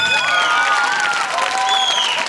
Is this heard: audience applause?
yes